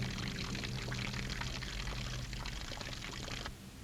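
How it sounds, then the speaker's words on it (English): Water pours from the sewers in wartime Naples in 1944, a steady splashing gush with a hissing, broadband texture that runs unbroken for about three and a half seconds before stopping abruptly. "Water from the sewers."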